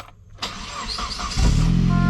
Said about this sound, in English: when the car's like really hot, this is what the starter sounds like